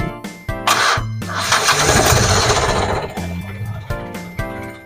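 A car engine cranks with a rhythmic starter whir, catches and roars loudly, then settles into running before cranking again, heard close after a transmission repair.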